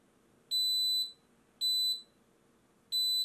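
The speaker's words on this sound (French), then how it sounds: "Donc là elle est passée en niveau 2 d'alarme" An xTool Fire Kit safety alarm on a laser engraving machine sounds at its level 2 setting: three loud, shrill electronic beeps about half a second long, repeating at a regular interval over a faint background hum.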